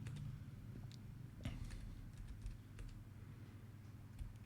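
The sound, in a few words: typing on a computer keyboard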